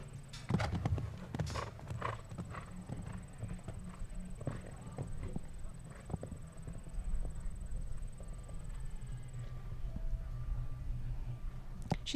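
Horse hooves clip-clop across a show jumping course in a CSI 5* 1.45 m winning round, ridden on an 11-year-old mare; the rhythmic thuds sound at moderate distance, with a commentator talking over them.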